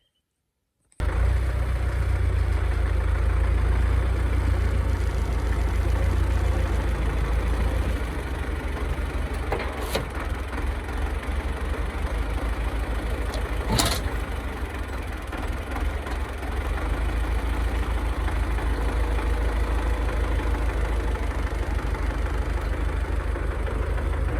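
A tractor engine idles steadily and loudly with a deep low rumble throughout, broken only by a couple of brief sharp clicks.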